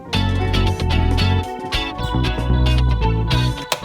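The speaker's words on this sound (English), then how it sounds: "panning the guitar to the left and the synth to the right" A dense, loud music mix of guitar and synth playing together, continuous with steady rhythmic chords and bass throughout, no voice.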